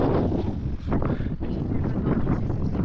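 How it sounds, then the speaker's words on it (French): Wind picks up outdoors on Porquerolles island, buffeting the microphone with a steady, gusting rumble that swells and dips over a few seconds, with no clear speech. "Et le vent commence déjà à se lever."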